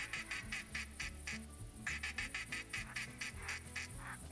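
Ducks quack in repeated bursts during a duck hunt in theHunter Classic, several birds calling fairly close over a low background, with no talking.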